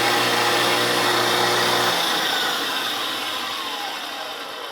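Electric mixer beating chilled whipped cream until stiff, a loud continuous whirring hum that gradually softens and eases off over the last couple of seconds.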